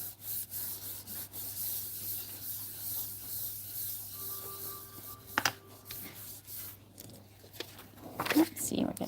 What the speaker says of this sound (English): this actually works surprisingly well for burnishing.